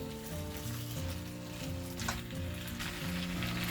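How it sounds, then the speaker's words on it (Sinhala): Chicken and mushrooms stir frying in a pan, with a steady dense sizzle running throughout at close range and no voices. "ඒක දාගෙන දැන් මේක මෙහෙම හොඳට කලවම් කරලා පොඩ්ඩක් අපි කුක් කරගමු."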